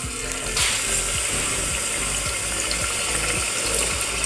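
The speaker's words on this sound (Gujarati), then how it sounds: "પાણી આપણે અડધો ગ્લાસ એડ કરશું." Water is poured into a pan of cluster bean curry, a continuous close rushing splash that stays steady throughout, with faint repeated knocks beneath and no talking.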